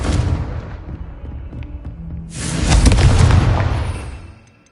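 A Confringo fire spell in Hogwarts Legacy bursts into a loud, deep explosion, an initial blast followed by a second, heavier roaring boom that swells and then fades out, with no talking over it.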